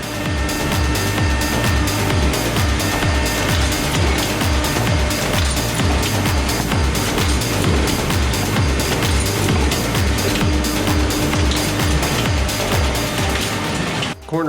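A Konica Minolta digital press finisher runs steadily, giving a dense, loud mechanical clatter with regular rhythmic thumps as sheets feed through and stack, unbroken for the whole stretch.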